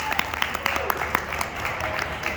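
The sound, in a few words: audience applause for Russ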